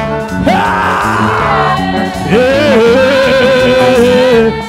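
Church congregation shouting and whooping together, loud sustained raised voices rising and falling, with a second surge of yelling from the middle onward.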